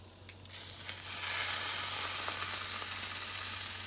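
Sausages sizzle and spit in a frying pan, a steady broadband hiss that swells after the first second and holds close and loud, with a low constant hum beneath.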